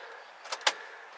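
Gear lever of a 1985 Chevrolet Scottsdale 4-speed 4x4 pickup being shifted back into second, giving two quick close mechanical clunks over a faint steady hum.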